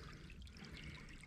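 Water pours out after a beaver trap is pried open, a faint, steady trickling and splashing stream with a broad hiss throughout and no talk.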